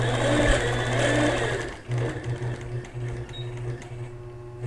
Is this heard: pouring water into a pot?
no